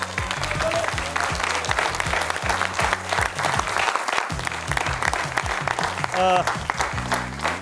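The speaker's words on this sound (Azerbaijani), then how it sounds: "Gəlin birinci komandanı alqışlayaq." A theatre audience at a comedy show applauds the first team, with sustained dense clapping from a crowd throughout while a voice talks over it.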